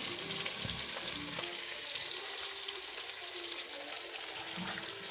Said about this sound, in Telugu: ఇప్పుడు ఆవాలు వేద్దాం.